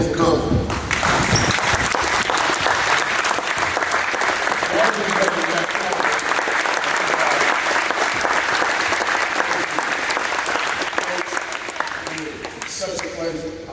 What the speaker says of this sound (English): give this man a round of applause and thank him for coming